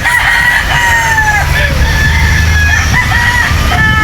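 Fighting cocks on a farm in Badian, South Cebu crow loudly and repeatedly, their overlapping calls close by over constant clucking and background farm noise.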